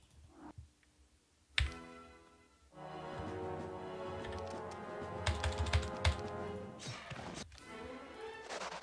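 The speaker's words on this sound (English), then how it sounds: "I blame Baratorch for my typing" Fingers type on a computer keyboard during a Heroes 3 HotA multiplayer match, first a few isolated clicks, then a sharp knock, followed by several seconds of dense, rapid keystrokes with brief louder bursts, close and steady.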